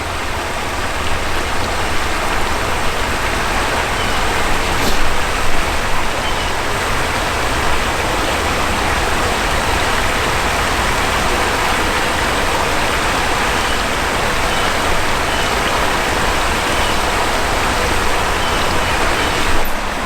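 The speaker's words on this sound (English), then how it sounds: "waterfall right here" Steady, loud rush of a waterfall feeding a knee-deep stream, heard up close as a continuous broadband roar with no voices.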